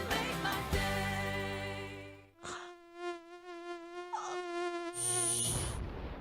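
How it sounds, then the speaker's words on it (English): Mosquitoes buzzing in a Raid insecticide advert: a high, steady whine with wavering pitch that fades in and out across several seconds, loud and close, with no talking. "When mosquitoes invade, use Raid."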